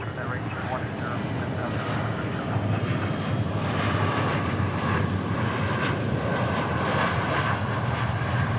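A steady, loud roar of aircraft engines at DFW Airport, sustained throughout with a faint whine riding on top and a voice talking underneath.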